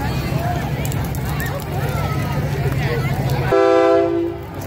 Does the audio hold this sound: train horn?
yes